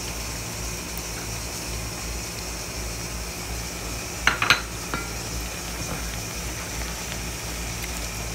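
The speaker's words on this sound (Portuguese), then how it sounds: "Deixa refogar." Sauce sautés in a pan with a steady, even sizzle, and a spoon or utensil scrapes and clinks against the pan briefly near the middle.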